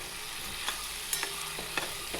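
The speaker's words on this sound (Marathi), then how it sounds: "नंतर आपला घरगुती मसाला याला आता छान परतून घ्यायचं." Homemade masala sautéing with drumstick pods in a pan gives a soft, even sizzle, with a few sharp clicks and scrapes of a spatula standing out, no one speaking.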